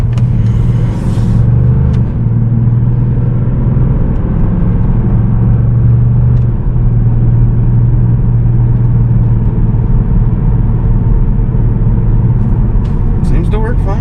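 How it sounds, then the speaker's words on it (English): A Subaru SVX fitted with a swapped-in 1996 Legacy Outback transmission and rear differential drives along, giving a loud, steady engine and road rumble inside the cabin. "Gonna drive it home now and see how she goes."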